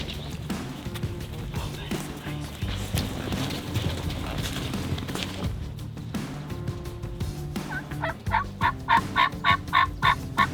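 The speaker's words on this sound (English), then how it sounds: "We heard him gobbling off the roost." A wild turkey gobbles repeatedly off the roost in the woods at dawn, a run of distinct rhythmic gobbles near the end, heard over rustling and background noise.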